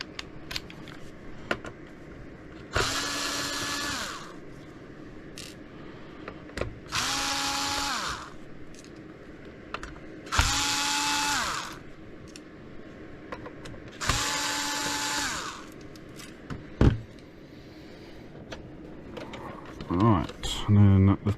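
A powered screwdriver backs screws out of an Xbox Crystal DVD drive in four separate whirring runs, each pitch rising as it spins up then dropping as the screw frees, with clicks and handling noise between runs and someone speaking.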